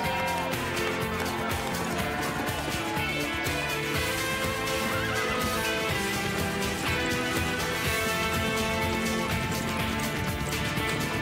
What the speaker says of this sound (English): That's Claire McLeod on Grove J, taken over from Alex Ryan at a gallop